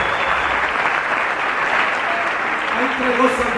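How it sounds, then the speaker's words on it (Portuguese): Church congregation clapping steadily throughout a Portuguese-language testimony service, a dense continuous wash of hands with a voice speaking over it. "Você perdeu a chance de aplaudir"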